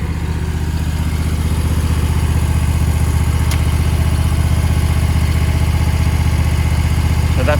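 A Toro Grandstand ride-on mower with a Catchpro bagger, working damp grass on site: a loud, steady low engine drone running continuously up close, with no talking over it.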